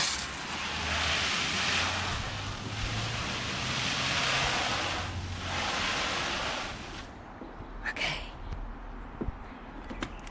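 Water poured or sprayed steadily onto outdoor clothing as improvised rain, a loud continuous hiss in surging waves for about seven seconds, then stopping into quieter drips and rustles.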